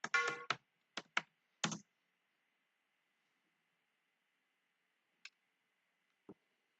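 Code being typed on a computer keyboard during a Python lecture: a quick burst of close, crisp key clicks, then a pause and two isolated taps, with no talk.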